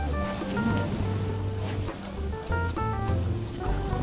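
Ocean surf at Kuta Beach in Bali after strong wind and heavy rain, with loud, continuous waves rolling and crashing close by and some wind rumble, and no talking.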